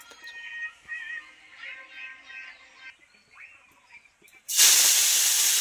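Thalkur leafy greens hit a large, hot kadai wok with a sudden, loud, hissing sizzle that holds steady at the end. Faint, intermittent tonal sounds come before it.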